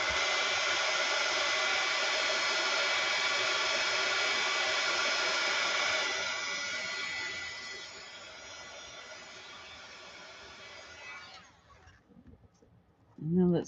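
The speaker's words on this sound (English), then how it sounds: "Let's dry this one a little bit." A hair dryer blows loudly and steadily over a watercolor painting, drops to a lower setting partway through, then cuts off, leaving near-quiet with a few faint handling sounds and a short noise at the end.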